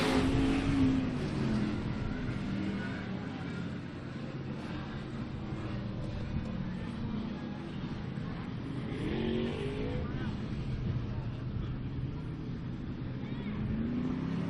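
Race cars roar down the front straightaway of an oval track toward the checkered flag at a night race, a steady loud engine drone with passing swells, while an announcer talks over it.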